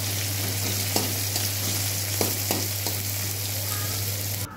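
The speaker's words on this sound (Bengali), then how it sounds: "এবার আমি তেলটা গরম হয়ে গেছে, এর মধ্যে পেঁয়াজ কুচিটা দিয়ে দিলাম, দিয়ে আমি কিছুক্ষণ পেঁয়াজটা একটু লাল করে ভেজে নেব।" Chopped onion fries in hot oil with a steady sizzle and a few soft stirring scrapes, close by over a constant low electrical hum, with no talking.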